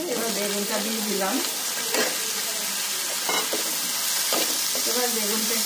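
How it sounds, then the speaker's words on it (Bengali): Eggplant tossed into a hot, oiled pan crackles and sizzles continuously while a utensil stirs and scrapes it; a voice briefly speaks over the frying at the start and end. "এবার বেগুনটা দিয়ে দিলাম"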